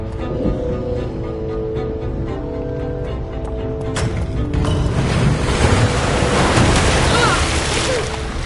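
Waterfalls released by pressure plates in Minecraft pour with a broad, rushing noise. It swells loud and full about halfway through, over faint steady tones from the game.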